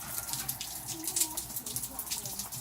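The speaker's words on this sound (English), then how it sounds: "it's raining inside the house" Rainwater leaks and drips inside a house in Lubbock, Texas, giving steady faint patters and splashes that keep going throughout, close by in a quiet room.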